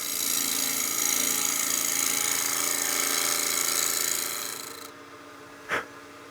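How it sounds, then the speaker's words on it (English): A bowl gouge truing a walnut blank on a wood lathe spinning near 1600 RPM, a loud continuous rough cutting hiss that fades out after about five seconds, followed by a single brief knock. "I'm going to go ahead and use my bowl gouge now to true up the surface"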